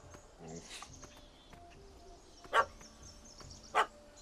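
In The Witcher 3: Wild Hunt, a puppy gives two sharp, separate barks about a second apart over quiet game ambience.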